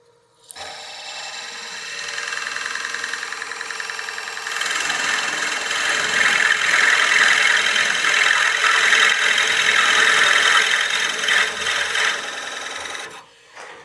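A Forstner bit bores into a turned wooden block head on a lathe running at about 500 RPM, giving a steady close rasping, rubbing whine that builds and grows louder midway before cutting off.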